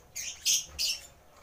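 A handfed pet bird named Sky gives three short, bright chirping calls in quick succession, close and clear against a quiet room.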